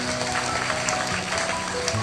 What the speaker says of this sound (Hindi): इसलिए ताली बजा दो उसके लिए।